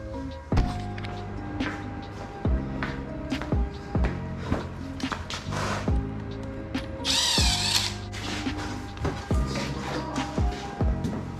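Hand and power tools at work pulling the carburetors off a motorcycle in a garage: repeated short metallic clanks and taps spaced every second or two, with a brief whirring drill-like burst in the middle, fairly close.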